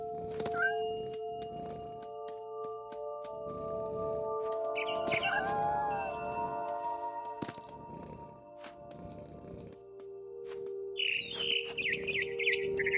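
Birds chirp in the What Remains of Edith Finch video game while the player is up in a big tree hunting a mama bird, with scattered tweets over a layered ambient game soundtrack.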